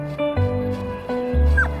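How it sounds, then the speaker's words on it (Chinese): A small stray dog whimpering and yipping close by in short, high, plaintive cries over a low tonal background. "有狗狗？"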